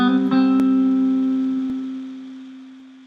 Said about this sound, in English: hammer on with your 3rd finger